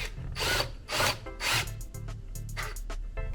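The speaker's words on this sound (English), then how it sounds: "You start drilling" A power drill whirs in short bursts, grinding and rasping as it bites into plastic on an E-Z-GO RXV golf cart, loud and close, with brief pauses between pulses.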